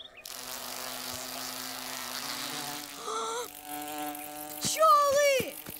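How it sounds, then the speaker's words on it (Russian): Bees buzzing in a Russian animated cartoon, a steady insect drone filling the background, joined by music and a brief whistling swoop near the end. "Пчелы!"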